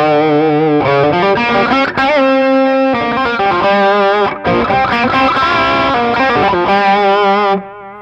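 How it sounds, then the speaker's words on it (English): Distorted electric guitar chords and single notes played through a Donner Yellow Fall delay pedal set to a short echo, loud and continuous, with brief gaps between phrases and a final chord ringing out at the end. "And it's kind of a short delay there. Not much delay happening."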